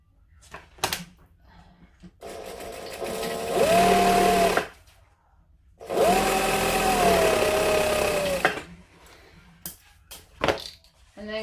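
A sewing machine stitches an all-vinyl Maisie bag in two sustained runs of a few seconds each, with quiet pauses and faint handling noises between the bursts.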